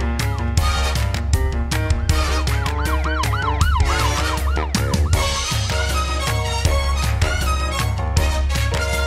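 An ambulance siren woven into a Spanish-language children's song, its wailing up-and-down tone rising over bouncy music with a steady beat, loud and close.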